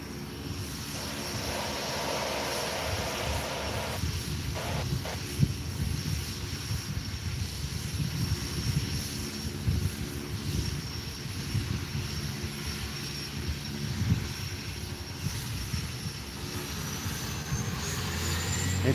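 A skydiving plane's engine drones overhead, a continuous, steady rumble holding at an even level throughout, with a faint higher whine above it and no voices.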